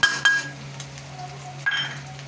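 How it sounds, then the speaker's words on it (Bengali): Fried onion and garlic with sugar stirred in a pan: a few clinks and scrapes of a spoon against metal over a faint low sizzle, quiet and close. "একটু নাড়াচাড়া করে দিচ্ছি"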